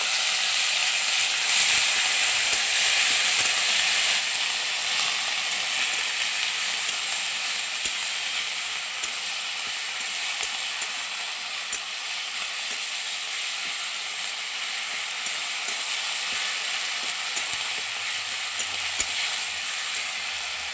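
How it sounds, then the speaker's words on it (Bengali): Bay leaf and ground spice paste fry in caramelized sugar for a vegetarian young jackfruit dish, giving a continuous, bright, crackling sizzle that stays steady throughout, broken by occasional small ticks and pops. "চিনি ক্যারামেলাইজড হয়ে গেছে, তেজপাতা আর বেটে রাখা মশলা দিয়ে দেব।"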